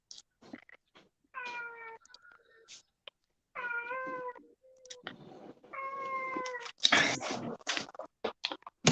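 A house cat meows repeatedly indoors, three drawn-out harmonic cries followed by a louder caterwaul burst and scattered clicks and rustles, close to the microphone with no talk.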